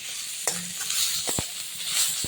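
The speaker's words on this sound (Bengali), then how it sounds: "এবার চিকেনটা আমি এই তেলেই নেড়ে নেব" Chicken sizzles steadily in hot oil while a utensil scrapes and clicks against the pan a few times.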